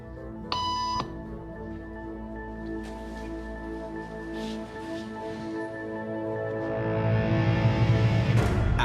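A short electronic beep tone sounds once near the start, steady and clear, followed by quiet room ambience that grows into a low rumble.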